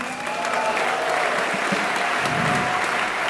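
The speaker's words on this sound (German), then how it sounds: "Auch da einen ganzen herzlichen Applaus." Steady, full applause from a crowd at a live rock concert in Winterthur, continuous dense clapping with faint murmured voices underneath.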